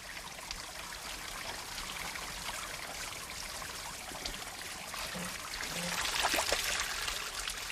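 Water in a steep mountain stream rushes and trickles steadily, a soft continuous wash that swells slightly toward the end, with no voices.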